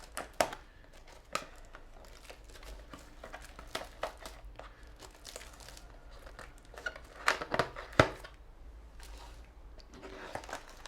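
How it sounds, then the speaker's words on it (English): Plastic wrap on the packaging of a 2013 Samsung UE46F6500 TV being cut and torn, giving scattered crinkles, snips and rustling bursts close by, with a few louder crackles near the end. "So we cut through the plastic."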